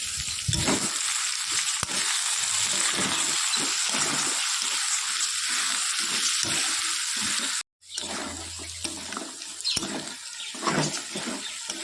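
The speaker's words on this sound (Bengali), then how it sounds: "চলো এবার মশলাটার মধ্যে দিয়ে সুন্দর করে একটু কষিয়ে নিই" Loud, constant sizzling of potatoes frying in spice paste with repeated stirring scrapes, a brief cut to silence, then the sizzle and stirring resume.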